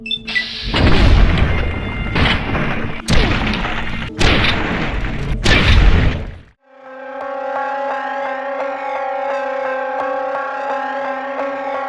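Loud, booming video game gunfire, four or five heavy blasts in quick succession, followed by a sudden cut to a sustained tonal musical drone.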